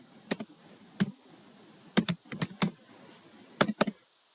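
A new computer keyboard is typed on in short irregular bursts of crisp key clicks, with single taps and quick clusters separated by pauses. The keys are close and clear, with no voice.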